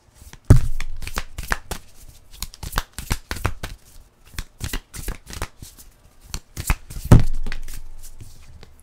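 Tarot cards shuffled by hand, a steady run of close papery riffles and slaps with two heavier thumps as the deck is squared, loud and near with no speech.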